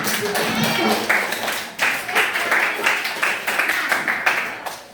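Children in a school group clap their hands together for several seconds, a dense patter of claps that swells after a short dip, with an adult voice speaking over it.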